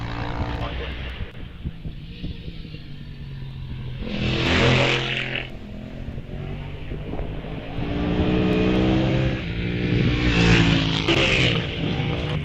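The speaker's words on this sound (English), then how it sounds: "Mark Short, number 700. Just leaving the line now, number 744, which is Chris Keats" Racing car climbing the hill at the Wiscombe Park hillclimb, its engine note swelling into two loud passes around the middle and end, with a commentator talking over it throughout.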